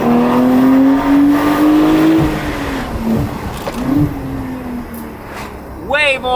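Porsche 992 Turbo fitted with a titanium exhaust and stock downpipes accelerates near buildings, its loud rising engine note climbing through gear changes with throttle lifts and a sharp rev at the end.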